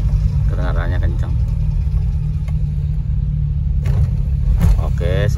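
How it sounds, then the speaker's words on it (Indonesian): Vehicle engine fitted with a loud racing exhaust, a deep steady low rumble running throughout under intermittent talking. "Ini knalpotnya racing ya, jadi kedengarannya kencang"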